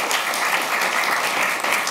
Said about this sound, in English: But first, please give them both a great applause.